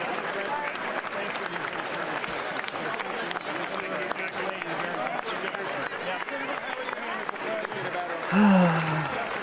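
Sustained crowd applause and clapping at a State of the Union address fills the whole stretch, dense and steady, with a brief voice rising near the end.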